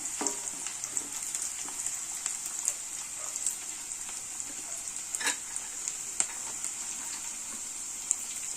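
Onions and green chillies fry in oil for a sour bottle-gourd stew, giving a steady close sizzle with scattered sharp crackles and pops throughout and no voices.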